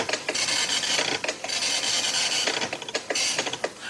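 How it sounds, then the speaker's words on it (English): A Commodore 64 printer running off a program listing, with loud buzzing, rasping print passes in rapid bursts broken by short gaps, steady and mechanical. "instead of listing to the screen, the computer will list to the printer."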